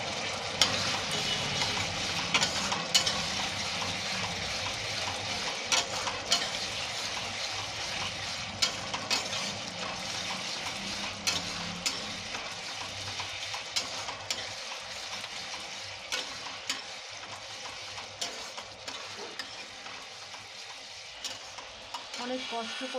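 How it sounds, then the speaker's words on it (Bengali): Biryani ingredients sauté in a pan, giving a steady, broad sizzle with repeated scraping and clinking as a spatula stirs them, fairly close and even throughout. "একটু ভালো করে কষাতে হবে জিনিসটাকে"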